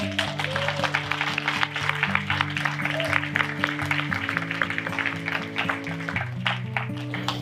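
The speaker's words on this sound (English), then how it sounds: "let's give them a round of applause" Wedding reception guests applauding together, sustained clapping layered over steady background music, with no one speaking.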